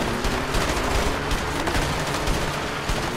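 Dense, continuous gunfire during a chase in the video game A Way Out, a loud, steady barrage of rapid shots with no pause and no talking.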